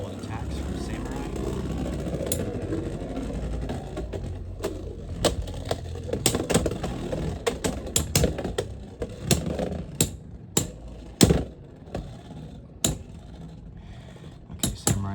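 Beyblade X spinning tops, Hasbro Steel Samurai 4-80 T against Talon Ptera 3-80 B, whirr in a stadium with a steady grinding hum, then a rapid string of sharp metallic clacks as they collide, under a talking voice.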